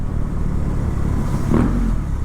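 A naked motorcycle under way, its engine a loud, continuous low drone mixed with wind rumble, swelling briefly near the end, with no voices.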